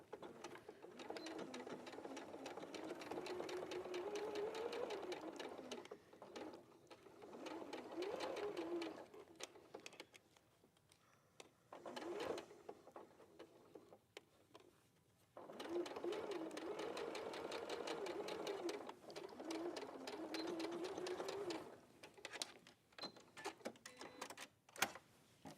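Domestic sewing machine stitching flat fabric, a fast steady whirring run that stops and restarts in several long bursts, close up and fairly quiet, with brief pauses between seams.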